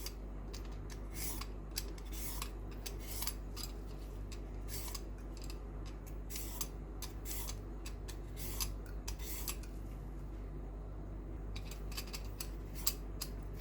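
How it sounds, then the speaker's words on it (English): Vegetable peeler drawn repeatedly along a carrot to cut thin ribbons for a carrot cucumber salad, a steady series of short, close scraping strokes with no talking. "Using our peeler, let's make a ribbon slice."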